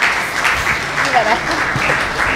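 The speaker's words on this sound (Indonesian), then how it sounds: "tepuk tangan untuk kita semua" A lecture hall of new university students applauding at a public lecture, a short burst of dense clapping, busy and fairly loud throughout.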